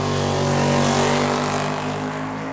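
A 1972 Chevy Vega and a 2000 Corvette drag race at Tucson Dragway, their engines roaring loud and steady at full throttle before easing slightly as they pull away.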